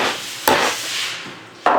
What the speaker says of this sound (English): you want to hit the piston with the hammer